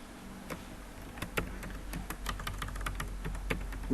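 Keys clatter on a computer keyboard as a headline is typed, a close, fairly quiet run of uneven clicks in short bursts over a low steady hum, with no talking.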